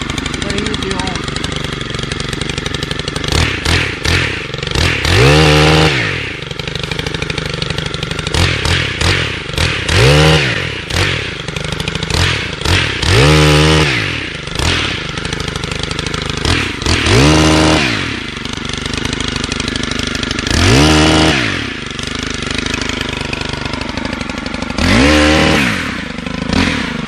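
Stihl Kombi KM 130 R pole saw trimming trees, its small two-stroke engine revving in repeated bursts of a few seconds each over a steady idle, close and loud, with people talking in between.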